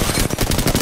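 Rapid automatic gunfire in Apex Legends rattles off in a fast, steady burst of loud, close shots with no pauses.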